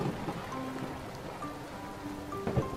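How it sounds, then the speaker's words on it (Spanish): Light rain falling in a children's cartoon, a soft steady patter of drops with a few brief musical tones over it, no talk. "¡Está lloviendo!"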